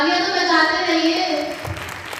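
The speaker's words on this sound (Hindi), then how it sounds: "तालियां तो बजाते रहिए।" Audience applause at an award ceremony, steady clapping underneath a sustained tonal musical sound, with a brief voice near the end.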